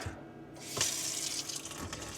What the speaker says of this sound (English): What I like to do is basically run cold water